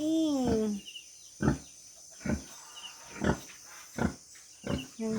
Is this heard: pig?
yes